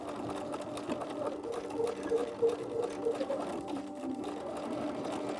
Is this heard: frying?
no